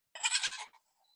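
A nervous goat tethered on a chain gives a single wavering bleat, close and fairly loud, lasting about half a second before quiet.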